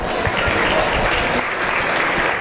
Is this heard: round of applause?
yes